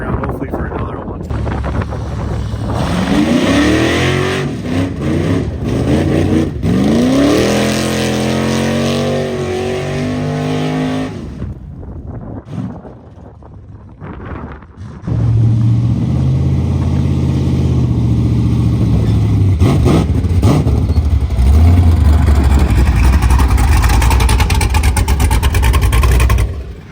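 A burnout car revs hard with a unique, aggressive engine note, its pitch rising and falling in repeated surges and throwing mud. Heavy wind buffets the microphone, and the engine roars loudly again after a brief lull.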